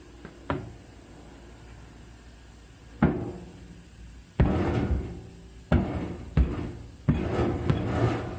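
Sharp hammer blows ring out while tires are changed on a tire machine for a 1965 Ford Falcon: a single strike, then a pause, then a run of five close, loud impacts with resonant tails.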